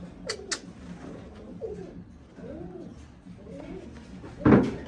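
Pigeons, a football-shaped fancy breed in male and female pairs including indigo and checker birds, coo in a series of soft, low rolling calls at close range, with a louder burst of flapping or rustling near the end.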